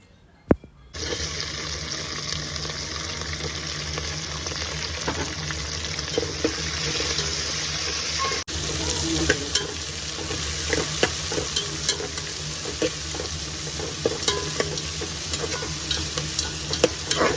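Curry leaves, green chili and garlic frying in a pan, a continuous close sizzle with occasional stirring scrapes and small pops, steady and fairly quiet throughout after a brief silent start.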